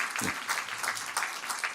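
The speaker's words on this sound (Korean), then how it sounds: "우리 박수 한번 해주시기 바랍니다" A church congregation claps together in a warm, continuous round of applause, steady and fairly close, with a voice speaking faintly underneath.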